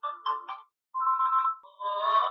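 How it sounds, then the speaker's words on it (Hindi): A QMobile E990i phone plays one of its built-in call ringtones, a short melodic electronic tune in two phrases with a brief gap between them, clear and close with no talking. "ये थी जी कॉल रिंगटोन जो कि आपको चेक करवा दी है"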